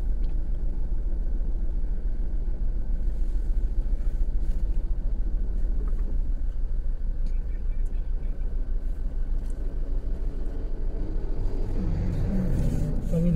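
A car rolls out of gear down the Kalo Dungar hill road, giving a steady, loud low rumble of tyres and road noise throughout, with a faint rising whine near the end.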